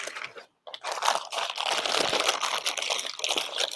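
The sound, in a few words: plastic bag being handled, crinkling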